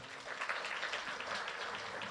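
Congregation at a church worship service clapping in unison for God, a soft, steady patter of many hands sustained for about two seconds, somewhat distant and without voices.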